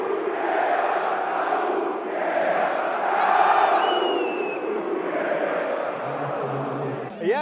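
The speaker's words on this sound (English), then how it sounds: "while Slovan Bratislava fans were cheering for their team" Slovan Bratislava football fans cheer and chant in a stadium during a derby against Spartak Trnava. A loud, steady crowd roar swells and dips throughout, with a brief whistle-like tone near the middle.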